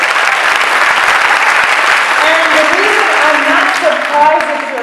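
Audience applause at a political talk on criminal justice and gun policy, steady dense clapping filling the whole stretch at close range, with faint voices or a sustained tone rising beneath it near the end.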